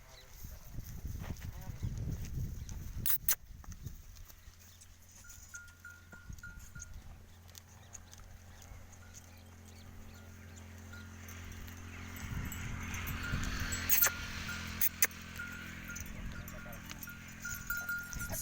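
Goats on a goat farm of Sirohi and Sojat cross breeds bleat and shuffle around, with faint bell clinks and livestock stirring heard under people talking nearby.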